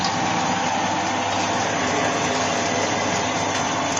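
A Rotex-100 pellet granulator machine runs with a continuous, loud, dense mechanical roar and grinding hum that stays constant throughout, heard close up and without any voices.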